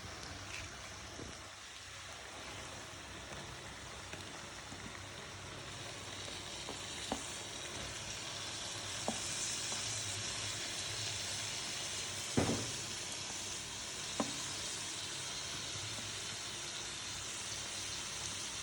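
Onion masala for chicken curry sizzles softly and continuously in a pan, with a few sharp clicks of a utensil against metal scattered through, no voices.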